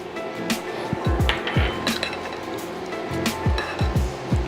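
Lobster salad being stirred in a bowl with chives and dill: a run of quick clinks and scrapes of a utensil against the bowl, close and fairly loud, coming in two bursts of repeated strokes.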